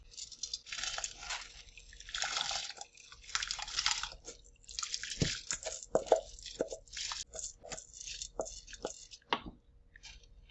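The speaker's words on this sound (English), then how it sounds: "the rice, I already drained it. So I am going to pour that in." Drained rice is poured into a pot of boiling water on a stovetop, giving a run of wet splashes, plops and drips, some louder bursts, close by.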